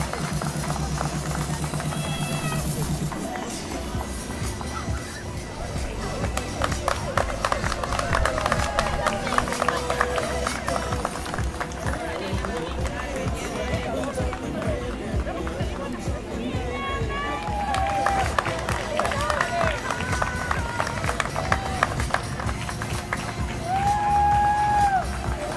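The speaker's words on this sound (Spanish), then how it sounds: "Fuerte los aplausos para los que van llegando." Spectators cheer and clap as runners arrive at the finish line of a patriotic marathon, a lively crowd din that continues throughout under a loud announcer's voice and other chatter.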